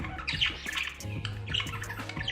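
A budgerigar chick gives repeated harsh, close squawks and scratchy chirps in quick bursts, loud and continuous with no talking.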